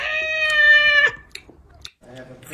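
A cat lets out one loud, drawn-out tonal meow lasting about a second. Faint clicks follow after a short pause, then a quieter, lower murmur at the end.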